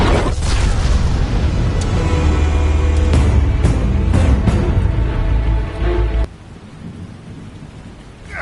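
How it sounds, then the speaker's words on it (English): Explosives detonate in a Batman video game: a loud, sustained rumbling blast with several sharp cracks over about six seconds, then an abrupt drop to a quieter tail. "Explosives armed. Fire when ready."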